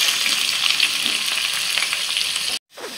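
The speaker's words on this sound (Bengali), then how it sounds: "তেলের মধ্যে দিয়ে দিচ্ছি কাঁচা লঙ্কা কুচি, আদা এবং রসুন কুচি" Chopped green chili, ginger and garlic hit hot oil in a pan, giving a loud, continuous crackling sizzle that cuts out briefly near the end and then resumes, with no voices.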